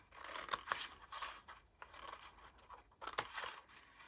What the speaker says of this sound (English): cut up this one, wedge in, cut that side off, keep that side straight, cut up, wedge in,